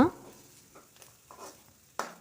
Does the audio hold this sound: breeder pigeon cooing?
no